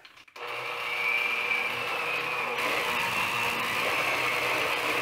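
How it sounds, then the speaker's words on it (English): An electric hand mixer beating butter and honey together for gluten-free red velvet cupcakes: a steady, loud whirring motor drone starting abruptly after a brief quiet moment and running continuously, with a slight shift in tone midway. "a hand mixer works just fine. So this is three quarters of a cup of honey, and then just mix your butter and honey together"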